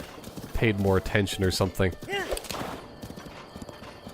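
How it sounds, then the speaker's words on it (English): Horses in the open field of Zelda: Breath of the Wild, heard as a neigh or whinny and hoof clip-clops, clear and fairly close, with someone talking over them. "There are a lot of horses hanging around"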